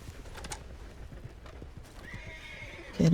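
A horse arrives in the Red Dead Redemption 2 video game, its hooves clip-clopping steadily and close before a loud neigh bursts out at the very end.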